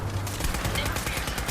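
Rapid automatic gunfire from a weapon in Fallout 4 rattles in a dense, fast stream of close, loud shots over a steady background.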